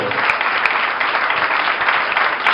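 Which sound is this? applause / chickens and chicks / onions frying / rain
applause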